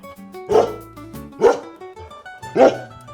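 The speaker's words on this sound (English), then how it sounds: "The answer is a dog barking." A dog barking three times at a slow, even pace, each bark loud and close with short quiet gaps between, and no other sounds.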